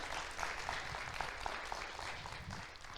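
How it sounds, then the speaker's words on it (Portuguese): A church congregation claps during a sermon: soft, dense applause of many hands, fairly faint and distant, with no one speaking over it. "Você pode aplaudir o Senhor pela palavra dEle."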